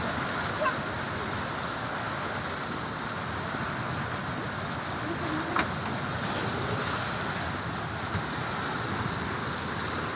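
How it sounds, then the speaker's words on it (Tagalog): Storm with strong wind and big waves, a constant roaring wash of wind and surf that stays broad and heavy throughout, with a few faint knocks and no clear voices. "malakas ang hangin, lakas ng alon"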